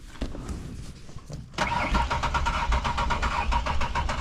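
A car engine cranks repeatedly with the ignition control module swapped in from a Ranger, the starter churning in a steady rhythm, loud and close, without catching and settling into a run.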